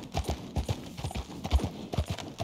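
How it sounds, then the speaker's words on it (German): Horse hooves clattering at a walk across frozen lake ice in Red Dead Redemption 2, a close, echoing series of hollow clip-clop beats in an uneven rhythm with no voices. "Und hat ganz schönes Echo, das Getrippeltrappel."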